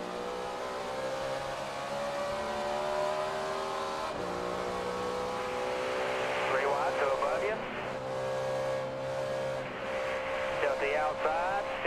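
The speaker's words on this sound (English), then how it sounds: "you could hear him playing with that throttle all the way through one and well, two" Onboard Chevrolet race car engine from Jeff Gordon's car at Las Vegas, a sustained droning note with throttle blips and shifting pitch as the revs rise and fall, heard under a commentator's voice.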